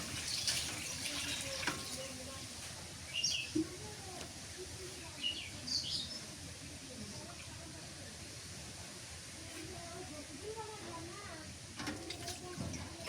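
Water pours into a pot during village-style cooking of boal fish with mustard oil and coriander leaves, a quiet trickling splash with faint birdsong outdoors.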